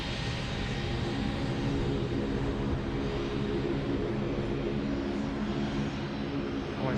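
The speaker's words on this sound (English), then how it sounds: "Hawker 800 just coming past again." A Hawker 800 corporate jet passes close by at Sydney Airport, its engines making a steady, loud, broad roar that fills the whole stretch.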